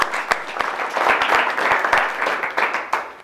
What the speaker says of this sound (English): can everybody give yourselves a little round of applause to kick this thing off